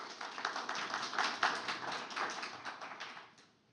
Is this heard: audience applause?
yes